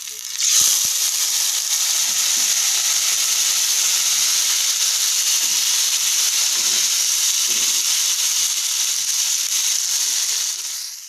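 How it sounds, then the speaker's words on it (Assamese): Boiled potatoes fry in hot oil with turmeric and red chili powder, making a loud, steady, close sizzle that continues throughout. "মই মাত্ৰ অলপমান ইয়াত ক্ৰিস্পি হ'বলৈ দিছোঁ"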